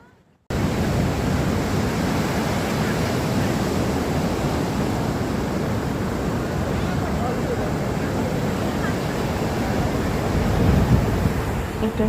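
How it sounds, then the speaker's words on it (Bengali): Sea waves at Puri beach in the morning make a steady, loud, broadband roar of surf that continues without a break, with some wind noise mixed in. "এটা সকালবেলায় আমরা ঢেউ খাচ্ছি এবং প্রকৃতির সৌন্দর্য উপভোগ করছি।"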